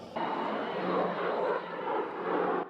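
A vintage Yak-3 propeller fighter flies over Vasylkiv, its engine drone steady and moderately distant, swelling slightly as it passes.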